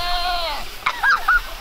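Close, loud goat bleats on a farm, a wavering cry followed by two or three shorter, higher bleats in quick succession over a quiet background.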